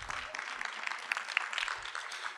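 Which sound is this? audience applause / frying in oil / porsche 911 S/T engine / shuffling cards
audience applause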